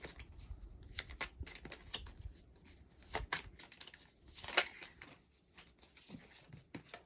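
Tarot cards being shuffled by hand during a zodiac reading, a run of soft papery riffles and slaps in irregular bursts, close and fairly quiet, with no talking.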